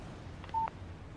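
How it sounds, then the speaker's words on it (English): Phone text message alert in the video game Alan Wake, a short electronic double beep tone rising out of quiet background ambience. "Text message from Barry."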